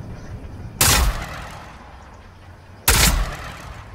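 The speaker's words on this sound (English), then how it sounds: "Fireworks! Fireworks! That's fireworks for you." Fireworks going off in the video game Fortnite during a 4th of July event: two sharp, loud bursts about two seconds apart, each fading into a brief rumbling tail.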